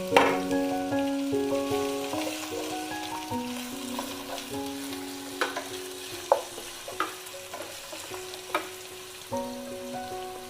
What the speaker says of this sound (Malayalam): ഇനി നമുക്കിതിലേക്ക് 3 സവാള നല്ല സ്ലൈസ് ആയിട്ട് കട്ട് ചെയ്തെടുത്തതാണ്. അത് ഇതിലേക്ക് ചേർത്ത് കൊടുക്കാം.